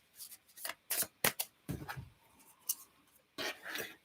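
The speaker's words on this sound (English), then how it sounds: "I'm going to give these cards another little shuffle as well" Tarot cards being shuffled by hand in quick papery bursts, each riffle a short sharp rustle separated by brief pauses, close and clear without talk.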